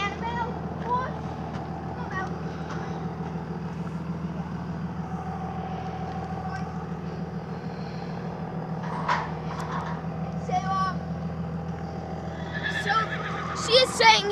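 A rare-breed horse neighs and whinnies in a series of calls, with hoof clops, a low engine rumble in the background and people talking nearby.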